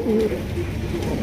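A pair of coloured Rajkolla pigeons coo softly up close, a couple of low, rounded calls rising over a quiet room.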